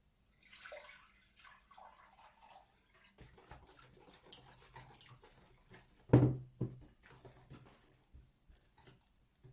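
Water trickles and splashes as it is poured into a measuring cup, soft and close, with one louder gush partway through and quiet drips around it.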